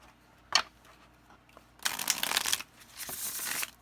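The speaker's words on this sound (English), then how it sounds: "let's see how it shuffles, because this is that famously bad Llewellyn cardstock" A tarot deck with thin Llewellyn cardstock being shuffled by hand: a quick riffle snap, then a longer rustling burst and a softer final shuffle, close and clear with no talking.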